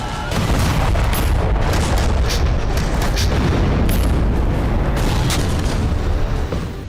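Cannon fire from an Indian Zorawar light tank among snowy mountains, with loud, continuous deep booms and rumbling blasts that roll on for several seconds close by.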